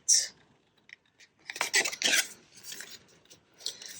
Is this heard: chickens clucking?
no